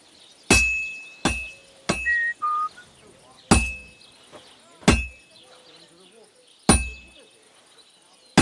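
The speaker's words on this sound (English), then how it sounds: "Now take the hammer and try hitting it a few times." Metal-on-metal hammer strikes ring out from a sword being forged on an anvil in a video game, six sharp clanging hits spaced about a second apart, each leaving a bright ringing tail, with brief whistling tones between two of them.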